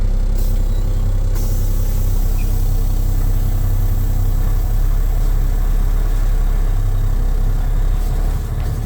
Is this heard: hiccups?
no